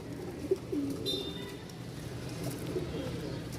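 Pigeons cooing at a pigeon sale, soft low repeated coos at moderate distance over a faint background hum.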